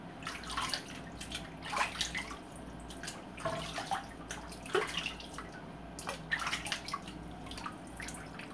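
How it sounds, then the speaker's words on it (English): Faint water splashes and drips as a freshly shaved head is rinsed, in irregular bursts of trickling and spattering over quiet background. "I'm just gonna rinse off my head real quickie."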